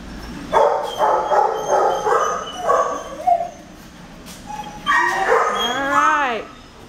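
Dogs at an animal shelter bark, yip and whimper in bursts, fairly close, with a few rising whiny yelps toward the end and background kennel noise between.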